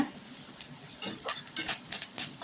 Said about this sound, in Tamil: சேர்த்து நல்லா வதக்கி விட்டுக்கோங்க